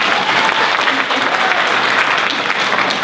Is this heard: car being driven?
no